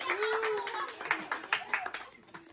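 Several people clap at a birthday celebration in a quick, uneven patter, with voices calling out over and between the claps.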